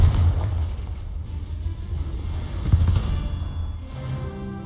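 A deep magical blast from the Confringo spell in Hogwarts Legacy, a low booming thud under a rumbling game backdrop, with one sharper impact near the middle.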